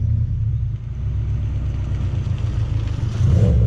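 A car engine runs nearby with a loud, steady low rumble and a faint whine above it, swelling slightly near the end as if given a little throttle.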